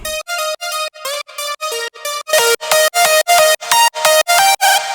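Layered Spire synth lead using the Aero preset from Bellatrix Audio in a happy hardcore track: bright, loud, choppy stabbed notes in a bouncy rhythm, growing fuller and brighter in the second half.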